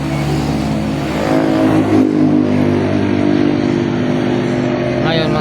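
A motorcycle engine runs steadily and loud throughout on a road trip in Bohol, with a constant low rumble and a slight rise in intensity partway through, and voices are heard briefly over it.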